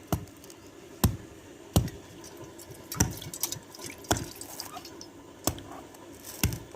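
Water trickling and dripping out of a pierced coconut, with a steady wet dribble punctuated by regular sharp splashy drops roughly every second, close and fairly quiet.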